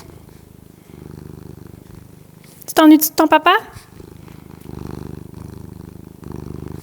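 A cat purrs in a soft, steady low rumble close by, pausing while someone speaks French to it, then resuming gently.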